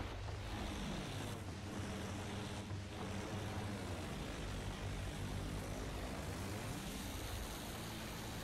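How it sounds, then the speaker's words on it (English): An enemy propeller airplane drones overhead in a combat video game, a steady loud engine roar with wavering pitch that fills the whole stretch without voices. "Enemy plane up there."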